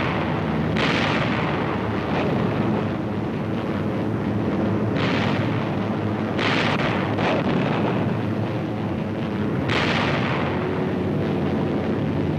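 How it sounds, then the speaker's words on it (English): 500-pound bombs exploding against Japanese ships, a dense, continuous roar of blasts and rumbling with several sharper bursts standing out, loud and noisy throughout, like an old wartime film soundtrack, with no talk. "500-pound bombs are skipped into the sides of the Japanese ships"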